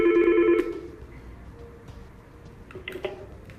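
An analog phone on a Yeastar S-Series IP PBX rings on an internal extension call, a short electronic ring burst at the start followed by quieter clicks and a couple of faint tones.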